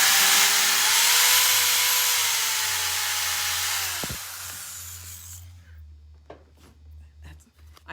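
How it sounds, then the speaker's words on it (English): A power drill bores out a hole in a magnet pendant, whining with a sliding pitch for about four seconds before stopping abruptly, followed by faint handling noises. "Drill's coming out, so we're going to drill for just a second"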